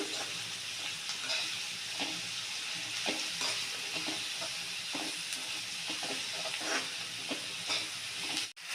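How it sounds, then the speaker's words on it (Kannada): Tomato chutney frying in a pan sizzles with a steady hiss, broken by repeated soft scrapes and taps of a stirring spoon, close and fairly quiet throughout. "ಸರಿಯಾಗಿ ಹೊರದು ಹಸಿ ವಾಸನೆ ಎಲ್ಲ ಹೋಗಲಿ"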